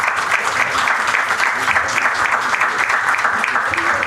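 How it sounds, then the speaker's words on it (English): Steady audience applause at a pharma-industry AI conference panel, dense continuous clapping from a large crowd filling the room at a constant level without pauses. "Please give a big round of applause for our speakers."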